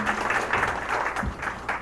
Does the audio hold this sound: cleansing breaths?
no